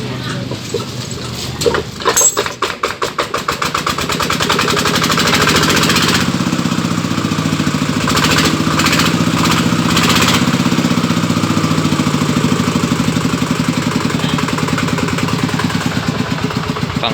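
A farm tractor engine starts with a few uneven chugs, then settles into a loud, close, rapid diesel clatter that runs steadily, with a person talking briefly in the background.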